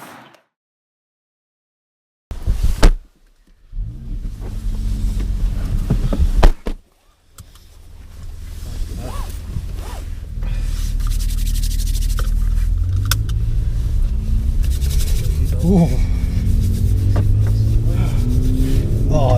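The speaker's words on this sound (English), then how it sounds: "Oh, look at the sound of that engine. Oh, that purr." A Mercedes-AMG car engine on a track starts up and settles into a deep, steady idle rumble that builds slightly, with a few brief pauses near the start.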